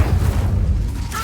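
A fiery Incendio spell bursts in the Hogwarts Legacy video game, a short, loud, low rumbling whoosh of flame that fills the moment, with a brief bright crackle at the end.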